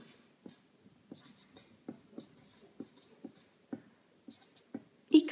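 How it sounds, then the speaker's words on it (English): Pen or marker writing by hand on a surface during a strategic foresight lesson, a series of short scratchy strokes in an uneven rhythm, close and fairly quiet, with no talking. "So I'm going to write here."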